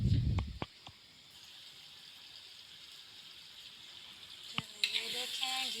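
Garlic frying in ghee for nihari, a faint steady sizzle that runs under the clip, with a few sharp clinks at the start and near the end.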